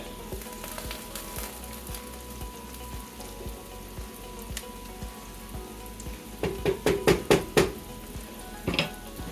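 Food sizzles quietly in a pan for a haluski dish. Near the end, a quick cluster of scraping clicks comes as it is stirred.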